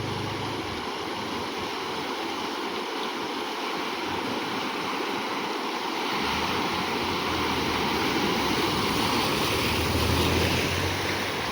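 Flood water rushing across a closed bypass road after heavy monsoon rain, a steady loud broadband roar of flowing water with wind buffeting the microphone, swelling slightly toward the end.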